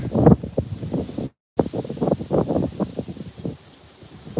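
Strong wind gusts across an open rice field in rough, buffeting waves close to the microphone, broken by a short silent gap and dying down near the end.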